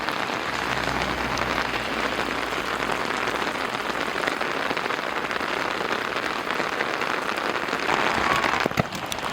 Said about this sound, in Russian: Ну а потом начался сильный дождь.